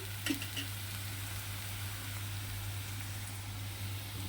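Potatoes and onions fry in oil in a pan, giving a steady, continuous sizzle with a few brief scrape or stir sounds near the start and no talk.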